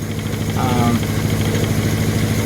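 An abandoned classic car's engine runs on fuel from the bulb with a little choke, a steady close, loud rhythmic idle clatter while someone talks over it.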